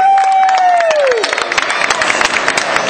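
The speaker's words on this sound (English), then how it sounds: "please give a big round of applause to the team going to Orlando, Florida, team number" An audience at a Christmas race event applauds and cheers for the winning team, a dense, loud patter after a brief descending whistle-like tone, with some voices mixed in.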